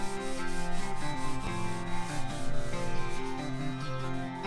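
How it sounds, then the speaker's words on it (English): Wax is rubbed hard into a heartwood cedar low bed frame, producing repeated close rubbing strokes over steady background music. "I can't wax it all at once, but I'll wax it with force and rub it in."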